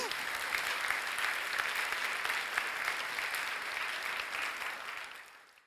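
Audience clapping throughout a technical conference session on troubleshooting JVM outages, a dense, steady wash of many hands at even loudness that tapers off over the final second.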